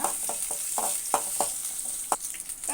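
Garlic and three chopped green chilies sautéing in a pan: a bright, constant sizzle with a few sharp spatula scrapes and knocks scattered through it.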